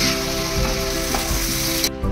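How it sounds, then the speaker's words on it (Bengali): Continuous loud sizzling of spiced cauliflower in hot oil, a steady crackling hiss that suddenly drops off near the end. "এই মশলা মাখানো ফুলকপিটা তেলের মধ্যে দিয়ে দিচ্ছি"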